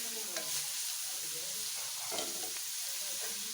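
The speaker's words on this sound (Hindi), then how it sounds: "ये देखिए 2 से 3 मिनट हो गया मुझे इनको फ्राई करते हुए।" Vegetables for fried rice frying and being stirred in a pan, a steady close sizzle with scraping stir strokes running throughout, no voices.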